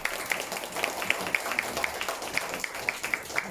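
An audience at a lecture hall talk on Schopenhauer gives brief, light applause, with scattered claps sounding at a fairly even rhythm.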